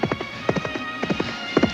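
Horse hooves clip-clop in a quick, steady rhythm as a radio drama sound effect, close and clear, with a horse neighing over the galloping beat.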